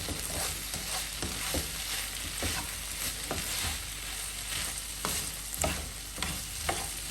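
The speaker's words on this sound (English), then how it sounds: "I will saute the vegetables so that they get a nice caramelized taste." Vegetables sauté and sizzle in a pan for vegan curried chicken, a steady close fry broken by repeated stirring scrapes and tosses, with no voices over it.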